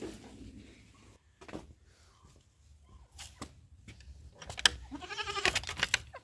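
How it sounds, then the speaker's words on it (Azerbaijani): A small young goat bleats near the end, a wavering nasal cry following quieter shuffling and a few sharp knocks on a farm. "Bu da balaca keçimizdir."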